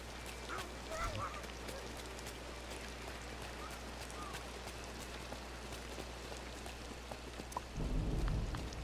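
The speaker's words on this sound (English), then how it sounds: "It's a thunderstorm, Goofy." Thunderstorm in the video game Disney Dreamlight Valley: steady faint rain hiss with a low rumble of thunder near the start and a stronger rumble at the end.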